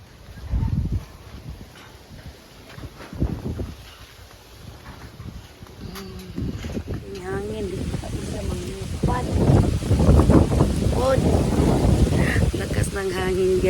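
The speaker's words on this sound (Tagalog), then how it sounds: "Grabing hangin." Strong gusty wind buffets the microphone outdoors, a loud rumbling roar that rises and falls and grows heavier toward the end, with a voice heard faintly at times.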